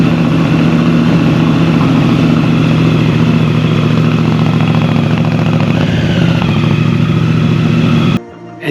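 A Honda Africa Twin motorcycle engine, freshly reassembled after maintenance with aftermarket parts, runs steadily close by with a loud, even idle and slight rev changes, cutting off abruptly near the end.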